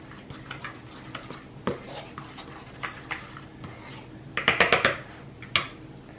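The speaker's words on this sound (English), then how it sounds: "Just mix that up quickly so the salt gets all mixed into the flour." Salt is mixed into flour in a bowl for a chocolate pie crust, giving soft scraping stirs and light utensil taps, with a quick run of louder clinks near the end and no talking.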